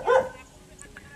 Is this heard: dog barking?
yes